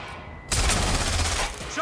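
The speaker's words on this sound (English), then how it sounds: "Shots fired! Shots fired!" Gunfire in Watch Dogs: Legion, a sudden dense burst of rapid shots that starts abruptly and rattles on continuously, loud and close, with voices shouting around it.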